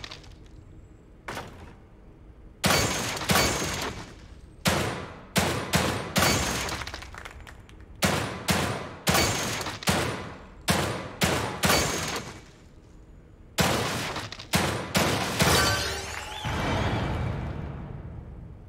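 Gunshots in the horror video game The Evil Within 2, a long run of loud, sharp single blasts fired at irregular intervals, some in quick pairs, ending in a denser clattering stretch, with no talk.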